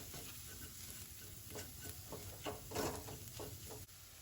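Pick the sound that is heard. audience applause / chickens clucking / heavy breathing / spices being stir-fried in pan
spices being stir-fried in pan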